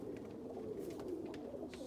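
A barless blue roller pigeon, a young cock bred this year, coos softly inside an unpowered coop, a low steady rolling murmur with faint background sounds.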